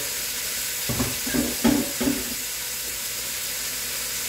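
Oxtail pieces sear in a hot pan with a steady, close hiss of frying. A few clattering stirs or pieces shifting come partway through, then the sizzle carries on alone.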